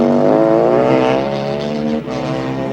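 Modified 600cc Supersport racing motorcycles scream around the Road America racetrack during a Formula Xtreme race, their loud high-revving engines roaring continuously and shifting pitch as they pass.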